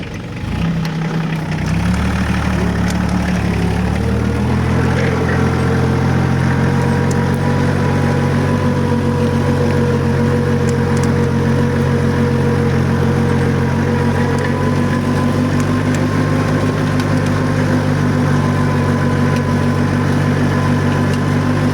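An Iseki TK-33 tractor ploughs a field with a loud, steady, close diesel drone. The pitch rises in the first few seconds and then holds even throughout, with no talking.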